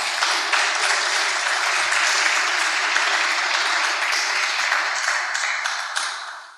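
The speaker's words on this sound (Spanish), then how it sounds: "Y dar un aplauso al Señor por tanto amor." A church congregation bursts into dense, sustained applause for the Lord, a loud even wash of many hands clapping that holds steady before tapering off at the end.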